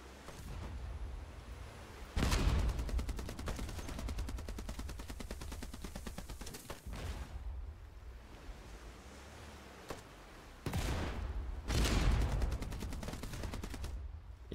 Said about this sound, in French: Y'en a un qui me tire dessus